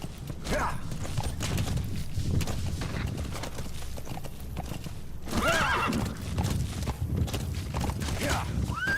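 A horse in Metal Gear Solid V: The Phantom Pain clip-clops at pace and gives several loud neighs and whinnies, close and prominent, with a voice heard faintly in the background.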